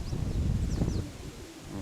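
A dove coos softly amid low rustling, with a few faint high chirps overhead, a brief close call lasting under two seconds.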